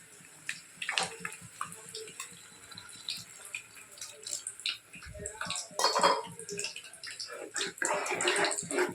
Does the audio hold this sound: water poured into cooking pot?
yes